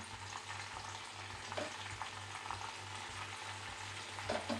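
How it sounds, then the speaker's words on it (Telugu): Washed gongura (sorrel) leaves sizzle in hot oil in a pan for a village-style gongura curry, a steady broadband frying hiss with a few louder crackling bursts and no talk. "కడిగి పెట్టుకున్న గోంగూర అంతా ఇందులోకి వేసేసుకోవాలి"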